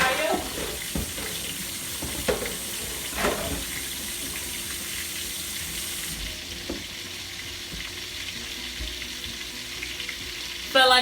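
Snapper pieces frying in a pan for brown stew fish, a close, continuous sizzle with a few sharp pops and spatters early on, no talk.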